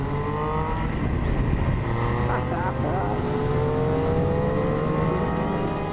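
Superbike engine revving on track at Brands Hatch, a loud, continuous engine roar with rising and shifting pitch, with a voice speaking over it.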